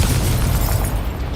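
An explosive Confringo spell goes off in Hogwarts Legacy, a loud, sustained blast with heavy low rumble and broad crackling noise across its short length.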